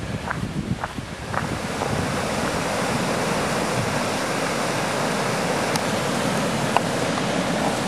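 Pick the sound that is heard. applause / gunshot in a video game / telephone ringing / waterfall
waterfall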